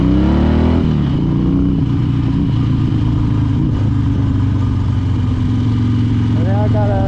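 A Harley Dyna motorcycle engine idles with a deep lumpy throb close by, revving up at the start and blipping again near the end, loud and steady throughout with no talk.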